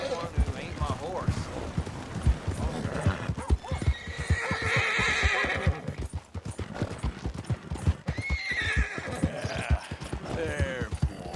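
In Red Dead Redemption 2, a horse's hooves clip-clop in a quick, regular rhythm, broken by a loud whinny in the middle, with a voice speaking intermittently over the hoofbeats.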